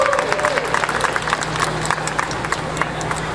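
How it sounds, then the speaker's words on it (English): Outdoor crowd at a Juneteenth flag raising ceremony in New York applauding the NYC Juneteenth Coalition, a sustained, fairly loud patter of many claps with a faint low hum beneath and no clear talk. "Please give a round of applause to the NYC Juneteenth Coalition."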